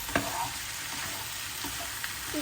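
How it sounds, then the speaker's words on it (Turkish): Chopped zucchini fries in a pot with a steady, close sizzle, broken by a few light knocks and scrapes of stirring, and no voices. "4 adet doğramış olduğum kabaklarımı ekliyorum. Karıştırıyorum."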